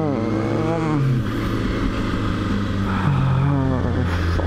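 A Lamborghini's engine drones loudly nearby, its pitch rising and falling as it passes, with voices mixed in.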